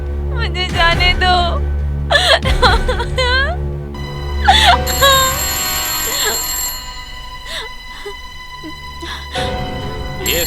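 A telephone rings with a melodic ringtone during a Hindi thriller film scene, a loud, repeating, sustained tone heard close by, broken up by moaning and gasping vocal sounds.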